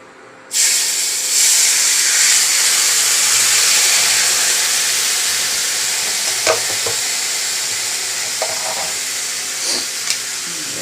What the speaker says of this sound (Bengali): একটু হলুদ গুঁড়ো সামান্য লঙ্কা গুঁড়ো দিয়ে জল দিয়ে দেবো